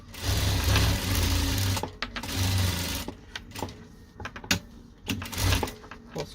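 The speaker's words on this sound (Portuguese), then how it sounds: "Agora eu vou passar uma costura de segurança em toda a volta." A sewing machine runs in bursts while stitching a securing seam around the edge of a quilted fabric bag made from patchwork squares, its steady motor hum stopping and restarting with clicks and fabric handling between runs, close and fairly loud.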